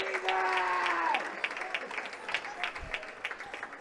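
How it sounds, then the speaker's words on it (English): Applause and cheering from basketball fans giving a standing ovation in a high school gym, steady clapping that thins into scattered claps, with a whistle near the start. "Very nice standing ovation here from the Millionaire fans and from the Tyrone fans cheering on."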